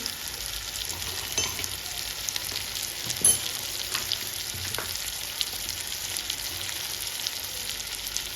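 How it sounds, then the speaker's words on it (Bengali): Cabbage fries with turmeric and ground spices in a pan, giving a soft, steady sizzle with occasional light clicks and scrapes of stirring, fairly faint and with no talking. "হলুদ মশলাটাকে ভালো করে কষিয়ে নেব"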